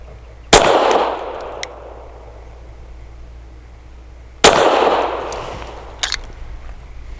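Two sharp, loud pistol shots from a Sig P320 firing Federal Syntech 150 grain action pistol rounds at an outdoor range, spaced about four seconds apart, each followed by a short rumbling decay and faint metallic clinks.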